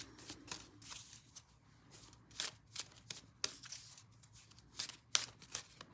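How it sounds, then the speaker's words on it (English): Glossy, bordered oracle cards are shuffled repeatedly by hand, a series of short crisp riffling bursts in an uneven rhythm, close and fairly quiet. "You may hear me shuffling."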